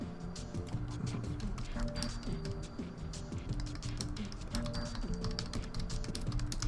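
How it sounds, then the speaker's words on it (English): Someone types on a computer keyboard during an online tabletop game session. Rapid, uneven keystroke clicks sound close up, moderately quiet, and continue steadily throughout. "I'm just typing something in tabletop for just us to hear"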